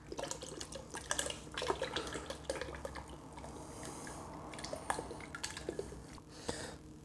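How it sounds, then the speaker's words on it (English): Liquid cleaner glugs from a whole bottle into about three gallons of water, with a steady pouring and splashing stream broken by small drips and clinks, close and fairly quiet, no talking. "I'm just gonna dump the whole thing in, just because why not?"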